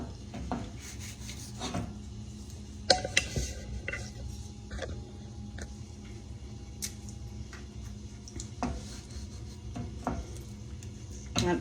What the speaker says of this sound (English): Let me get my knife and I'll cut this pork chop